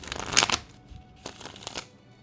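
Kingdom Hearts playing cards being shuffled in a quiet room, a close, crisp burst of riffling followed by a softer second flurry a moment later, with no talking.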